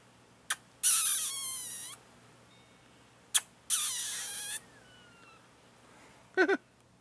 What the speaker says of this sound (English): Squirrel with the hiccups.